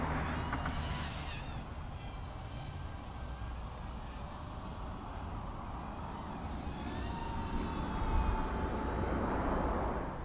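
An MJX X800 hexacopter drone carrying a keychain camera flies at full throttle with full forward pitch, giving a steady, rushing wind-like roar with faint whining motor tones that rise slightly near the end.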